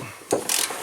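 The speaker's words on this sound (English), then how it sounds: "we're going to try to use the extendable ratchet Steelman Pro 1/2" Steelman Pro 1/2 inch extendable flex-head ratchet wrench turning during engine mount work, giving a couple of short, close clicking bursts within under a second, no talk.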